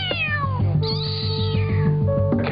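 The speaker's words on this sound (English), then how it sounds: "From the tiny kitten's mew to the big mama's howl. Cats have a lot to say." A cat meows loudly and close, one drawn-out call that bends in pitch, then a shorter rising cry, over a steady low hum.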